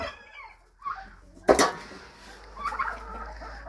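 Hungry hens in a coop giving a few scattered clucks and squawks at moderate distance, with one sharp louder call midway and low rustling between.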